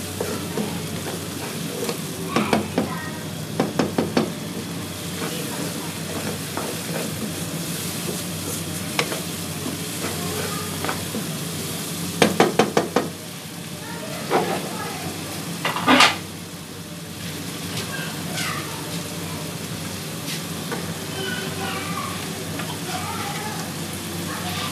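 Mutton liver fries in ghee with spices in a pan, a continuous close crackling sizzle with occasional sharp clatters of a utensil against the pan and brief louder bursts of spattering.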